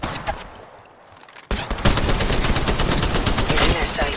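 Gunfire in Apex Legends Mobile: a quieter opening with a few distant shots, then at about 1.5 seconds loud, rapid automatic fire bursts in and continues densely to the end.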